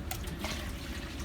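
Water running and filling a container in a home kitchen during bread baking, a soft, faint splashing trickle that stays continuous and close for a brief moment, with no voices.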